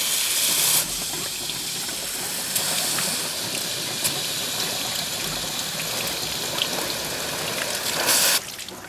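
Water rushes steadily through a car heater core hose during a flush of a plugged heater core, a continuous broadband hiss and gurgle that holds nearly constant for the whole stretch and stops abruptly at the end.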